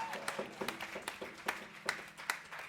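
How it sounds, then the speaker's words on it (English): An audience claps at a live jazz quintet show in a small club, scattered, fairly close handclaps forming a modest round of applause. "how about a nice round of applause for Steve and Bea Rashid."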